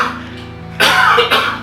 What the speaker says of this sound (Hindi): आप पहले खांस लीजिए।